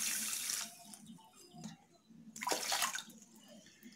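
Water is poured into a pot of sugar to make syrup, giving a hissing splashy pour at the start, a short quiet gap with a few drips and knocks, then a second louder pour. The sound is fairly close, with no talk.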